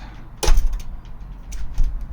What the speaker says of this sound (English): This is the door. We are going for a drive.